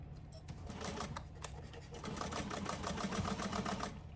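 Sewing machine stitching around the closed top of a fabric tote bag, a steady rapid mechanical patter running throughout at moderate level.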